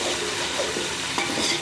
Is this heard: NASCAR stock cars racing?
no